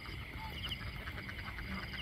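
Large flock of about four thousand ducks on a farm quacking in a dense, continuous chorus, many overlapping calls at middle distance with a steady background hum.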